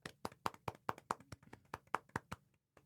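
A few people on a podcast clap together for an episode milestone, a quick run of about a dozen sharp, close, individual handclaps in a loose rhythm that thin out and stop.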